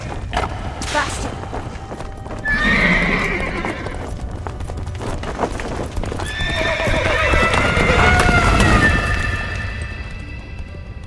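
A horse gallops with steady clip-clop hooves and neighs loudly, spooked during a frantic escape, with ominous music and shouting voices over the hoofbeats.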